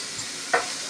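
A spatula stirs broccoli pepper fry in a pan, with a faint sizzle beneath two brief, sharp scraping strokes close by.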